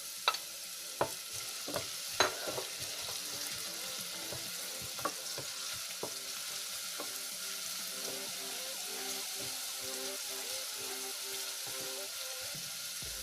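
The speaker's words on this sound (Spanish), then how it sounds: "Ponemos a sofreír la cebolla" Chopped onion sizzles gently in a pan, a soft continuous crackle broken early by a few sharp clicks and taps of a utensil, quiet and close, with no voices.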